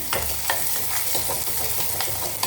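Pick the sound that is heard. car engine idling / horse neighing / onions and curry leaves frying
onions and curry leaves frying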